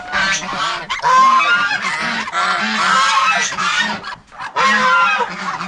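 Geese honking loudly and repeatedly in close, overlapping calls, with a short lull before another burst; chickens and ducks are kept nearby.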